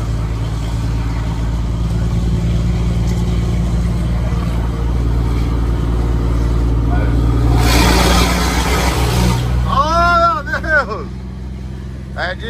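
Steady low engine drone and road rumble while driving alongside a truck, loud and continuous, with a rush of passing air near the eight-second mark and chirping tones near the end; someone talks over it.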